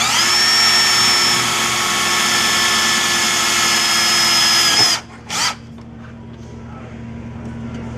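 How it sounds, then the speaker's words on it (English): A power drill with a 1/8 inch bit bores a pop rivet hole through truck sheet metal, whining steadily and loudly for about five seconds before stopping, followed by a brief short rev. "You're going to use an 1/8 inch drill bit and use the hole on the plate as a guide hole to drill your hole into the sheet metal."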